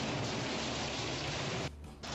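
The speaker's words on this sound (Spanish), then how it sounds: "Mirá lo que es esta lluvia." Heavy rain pours down as a dense, continuous hiss of falling water. It is broadband and unbroken apart from a brief dip near the end, with no voices.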